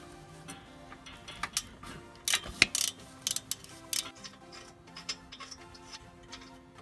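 A flanged nut is worked off a stud on the downpipe of a Subaru EJ-series engine, with faint, irregular tool clicks and short metallic bursts against a quiet background.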